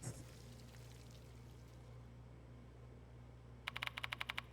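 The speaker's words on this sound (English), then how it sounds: "Is the sound of water coming from the toilet?" Faint water runs from a toilet in the horror video game Death Mark II, a soft steady trickle under a low hum, then a brief run of crisp rhythmic ticks near the end.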